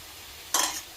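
A garlic pickle mixture gets stirred in a single brief scraping burst partway through, close and fairly loud, with quiet before it.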